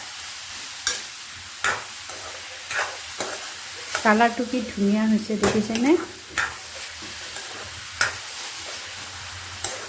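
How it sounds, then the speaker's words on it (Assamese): Sugar frying in a pan while being stirred, a soft sizzle under repeated scraping strokes from the spoon. Someone speaks briefly over it midway. "চেনি দি আৰু অলপমান ভাজি ল'ম"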